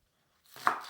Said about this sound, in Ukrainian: Тепер поріжу молоду цибулю